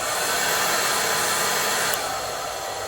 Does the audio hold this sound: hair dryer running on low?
yes